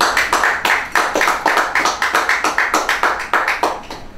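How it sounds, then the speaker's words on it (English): A small group at a graduation awards ceremony clapping steadily at close range, a brisk, even patter of hands with no voices over it. "Shall we have another round of applause?"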